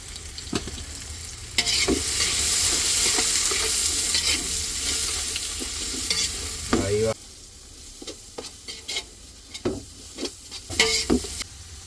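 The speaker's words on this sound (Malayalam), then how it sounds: "ഉള്ളി അങ്ങോട്ട് ഇടാം. കുറച്ച് ഉള്ളി വെച്ചേക്കാം, ഫ്രൈ ചെയ്യാൻ." Onions sizzle and crackle in hot oil for biryani, a loud steady frying hiss broken by stirring scrapes, then quieter sporadic spatters and clinks.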